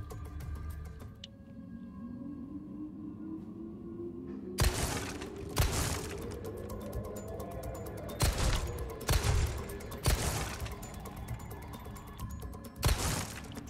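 Gunshots at a shooting range in Resident Evil 4, sharp cracks, one after another at uneven intervals, loud against a quiet background with a rising musical tone.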